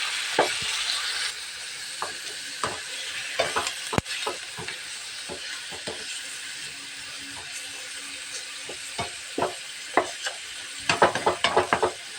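Pork adobo sizzles steadily in a frying pan while a utensil stirs it, with repeated scraping and clinking strokes against the pan through the sizzle.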